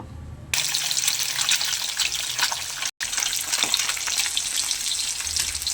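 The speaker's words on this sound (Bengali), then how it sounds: "তেলটা আমার গরম হয়ে গেছে, এবারে মাছগুলো দিয়ে দেব" Rohu fish frying in hot mustard oil in a kadai, a loud dense crackling sizzle that starts abruptly and runs steadily throughout, with one brief break.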